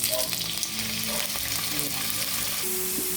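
Pepper-seasoned pork frying in a pan, a loud, dense, steady sizzle close up with light stirring throughout.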